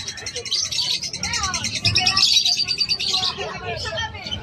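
Hagoromo parakeets at a pet market chirp and tweet in busy overlapping calls, with a pigeon-like coo and a murmur of people talking nearby mixed in throughout.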